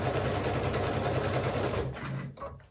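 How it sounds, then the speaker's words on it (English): A sewing machine stitches down quilt binding in a fast, even mechanical chatter, close and steady, then slows and stops near the end with a few faint clicks. "in the process of sewing my binding down here, and now I'm just about at my stopping point"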